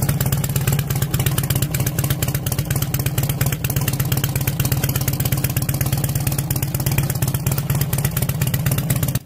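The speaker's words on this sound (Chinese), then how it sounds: "听一下鱼尾的排气声浪" A chopper-style motorcycle with a fishtail exhaust, lowered handlebars and a modified air filter idles steadily, its deep rumbling exhaust pulsing loud and close throughout with no talking.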